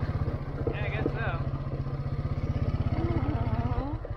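A vehicle engine with a fault runs steadily on a trail, its rapid, even pulsing loud and close throughout, while people talk briefly over it.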